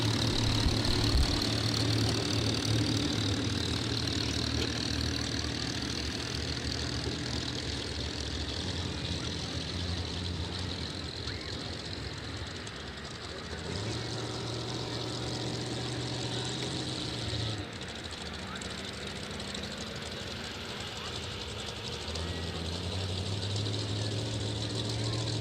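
Heavy pulling tractor engine droning steadily at a tractor pull, a loud sustained low rumble with shifting pitch bands over a constant crowd and arena background, with faint voices underneath.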